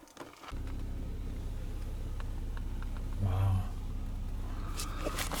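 A truck is driven toward a trailhead on an elk hunt, giving a steady close engine rumble from inside the cab that swells briefly midway, with faint voice-like sounds above it.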